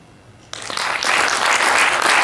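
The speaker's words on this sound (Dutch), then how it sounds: "Applaus voor Hans en Veronique" Applause from an audience at a Dutch awards event for a café, bistro and terrace, starting abruptly after a short quiet lead-in and swelling into steady, dense clapping that holds loud to the end.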